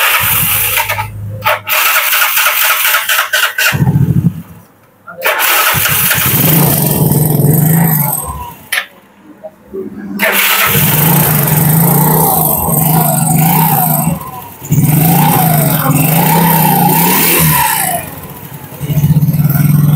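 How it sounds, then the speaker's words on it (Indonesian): A Yamaha Mio Sporty scooter that has lost power starts up after a few cranking attempts with brief silent gaps between them, then idles and revs loudly nearby, its pitch climbing and dipping. "tinggal kita hidupkan mesinnya guys. Kita coba dulu ya, kita coba starter"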